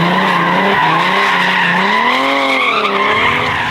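Professional drift cars skid hard at a home compound, tires squealing in loud, continuous wailing tones that bend up and down in pitch for the whole stretch, close by and with no talking.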